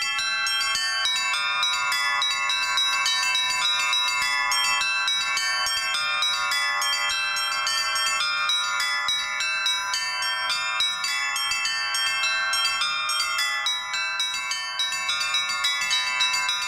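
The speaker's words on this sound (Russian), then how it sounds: "Можно переключить на эти два колокола." Church bells from the Litex foundry in Moscow and the Shuvalov foundry in Tutaev ring in a fast, continuous rhythmic peal, with dense overlapping strikes and shimmering sustained tones, loud and close, with no talk.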